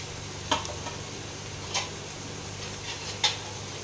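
A soft, steady frying crackle fills the background as mutton fries in a pan, with three or four sharp scrapes or taps of a utensil against the pan.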